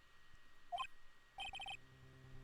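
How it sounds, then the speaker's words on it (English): A transceiver rings in the Ace Attorney video game, two short bursts of electronic ringing tones, the second a rapid string of repeated chirps, standing alone over a quiet background. "Ah, Mr. Nick, the transceiver."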